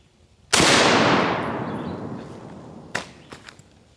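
A single loud, close M1 Garand rifle shot into a ballistic dummy head cracks sharply and rolls away in a long fading echo, followed by a few faint clicks and knocks.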